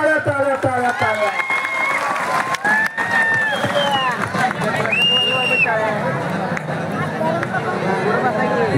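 A crowd at an outdoor kusti wrestling match in Mandrup claps and cheers in a dense, continuous roar, under a loud announcer's voice.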